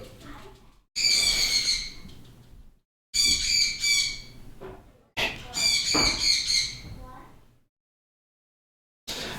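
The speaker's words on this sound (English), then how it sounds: "I regret getting that second bird. It is so much louder. He's so much louder and shrill." A loud, shrill pet bird squawks in three harsh, drawn-out bursts with short silent gaps between them, close and indoors, and no one speaks.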